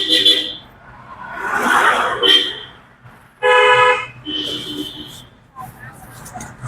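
A car horn honks in a few short blasts amid street traffic, with a person talking between and over the honks.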